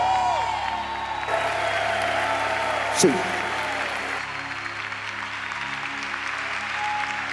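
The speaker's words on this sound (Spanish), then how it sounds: "Vamos a dar a Jesús un buen aplauso." A church congregation claps warmly in sustained applause during a sermon, with a brief cheer or whoop near the middle, over faint background music and a short spoken word.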